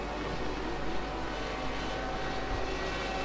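A Radical SR8 race car in iRacing, its 2.7 litre V8 built from two superbike engines joined together, gives a steady, loud, unbroken engine roar. No one speaks.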